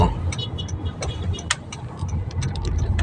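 Heavy road traffic flows past outdoors, a continuous car and engine rumble with passing vehicles and scattered sharp clicks and knocks, fairly distant and moderate in level.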